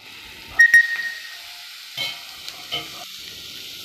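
Raw banana masala fry cooking in a pan, giving a soft steady sizzle with a few sharp clinks and stirring knocks scattered through it.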